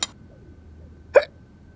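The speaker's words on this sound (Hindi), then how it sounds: "आपको फिर से हिचकियां क्यों आ रही है?" A single sharp hiccup from a person, brief and close, following a short burst at the start, otherwise quiet.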